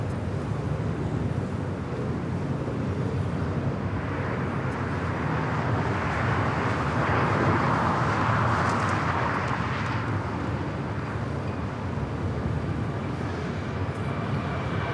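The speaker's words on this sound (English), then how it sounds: "This is United Airlines 469 taking off to San Francisco on the 737-800" A United Airlines Boeing 737-800 takes off from LAX, a broad, continuous jet roar heard from a distance that swells toward the middle before easing, with no voices.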